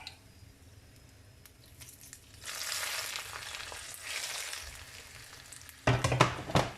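Pork ribs fry in oil, starting from near silence into a steady hiss and then a louder, crackling sizzle that swells toward the end.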